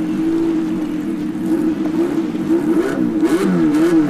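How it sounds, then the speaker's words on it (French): A Kawasaki H2R motorcycle engine hums loudly nearby at a steady pitch, then revs up and down in several wavering blips toward the end, with no talking. "Le son du moteur s'il vous plaît."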